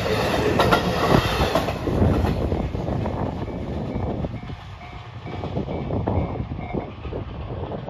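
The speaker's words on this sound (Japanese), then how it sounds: "このようにインカーブを描いて通過していく列車を撮影できます" A Iida Line train rounds a curve at a level crossing near Nanakubo, its steady rumble and clattering wheels loud and continuous throughout, with faint squeal and crossing bell tones above.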